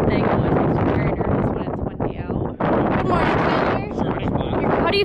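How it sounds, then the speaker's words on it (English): Strong wind at Chuckwalla Valley Raceway buffets the microphone in loud, continuous rumbling gusts, with a brief lull midway before the roar returns. "it is very, very windy today, which is not a very good thing."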